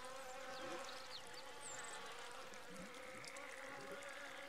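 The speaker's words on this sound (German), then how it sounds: "Ich höre auch Bienen oder Fliegen" Buzzing bees or flies in the point-and-click game The Whispered World, a continuous insect drone with darting higher buzzes passing near, layered over a steady ambient hum and faint background texture.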